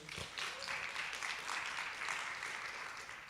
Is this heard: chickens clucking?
no